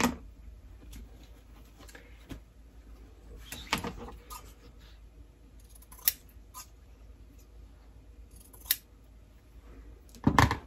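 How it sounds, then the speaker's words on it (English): Scissors cut through fabric pieces for a quilt block, giving faint, sparse snips and crisp clicks scattered across a quiet room, with a cluster of louder cuts near the end. "So I'm just gonna cut four of those pieces."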